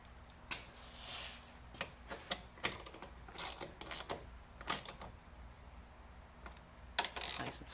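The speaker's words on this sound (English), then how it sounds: "All you gotta do is tighten up some of these bolts here" Ratcheting wrench tightening the bolts of a catch can on a BMW 335i with the N55 engine in a home garage; a run of short, sharp clicking bursts, close and fairly loud, with brief pauses between them and no speech.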